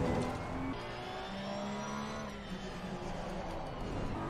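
Race car engines in Assetto Corsa Competizione on an American track, a loud revving whine that drops in pitch under heavy braking, with other cars droning close behind.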